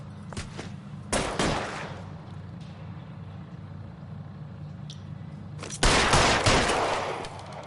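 Sharp gunshots ring out in an LA Noire shootout, a couple of quick single shots followed by two louder bursts of fire, each with a short echoing tail, set against a low steady background hum.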